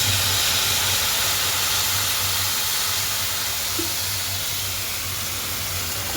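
Water poured into a hot pan of banana flower cooking with prawns, a loud, steady close hiss of steam and sizzling that fills the whole stretch without pause.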